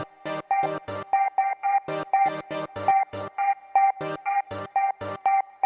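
Rapid, evenly spaced notes from the Tempera granular synthesizer in short choppy bursts over a sustained tone, forming a quick stuttering pattern, clear and close.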